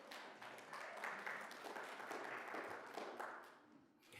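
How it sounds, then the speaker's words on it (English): Audience applause at a Black History Month kick-off event in Bloomington, a steady wash of many hands clapping that holds for several seconds at moderate distance, with no voices standing out. "Let's have a round of applause for our junior sponsors"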